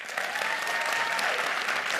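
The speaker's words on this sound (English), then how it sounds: "I want you to clap if the answer is yes" An audience at an evening event about the Wisconsin Supreme Court election claps to answer yes, a dense, loud burst of applause holding steady throughout with no talk over it.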